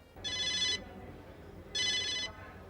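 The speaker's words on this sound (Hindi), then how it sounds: "जरा फोन आया दूसरा मोबाइल पर।" A mobile phone rings in two bright electronic bursts roughly a second apart, each about half a second long, with quiet room tone between them and no talking.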